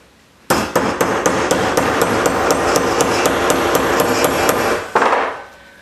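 A hammer strikes the motor armature of a Craftsman table saw in a rapid, steady series of about a dozen close, loud metallic taps, each ringing briefly, then stops.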